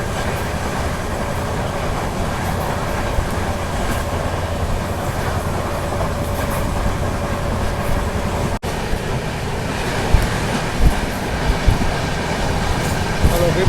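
The Saurashtra Mail, train 22945, at a station platform: a loud, continuous rumble of rolling rail cars with faint clacks of the wheels, steady throughout, with talk at times.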